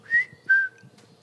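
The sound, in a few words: person imitating a whistle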